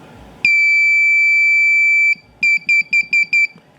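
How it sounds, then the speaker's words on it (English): A loud electronic buzzer in a push-button doorbell circuit sounds one long continuous tone, then several short, evenly spaced bursts as the button is pressed repeatedly. "So when I push this push button, you're gonna hear a little buzzing sound."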